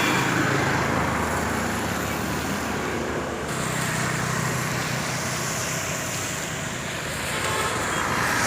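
Steady traffic roar fills a busy bus stand in Dharmasthala, Karnataka. Vehicles pass continuously nearby and the engine noise swells in places, with no speech.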